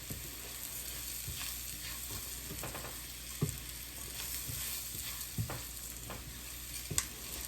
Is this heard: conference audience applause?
no